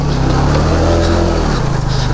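A motorbike engine while riding, with a loud, steady low drone and constant wind and road rumble close to the microphone, no talking.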